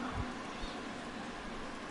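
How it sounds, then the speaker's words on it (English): Steady rain falling at a baseball game, a faint, even hiss of drops on surfaces with no breaks, carrying on for the whole stretch. "the rain continues to fall here"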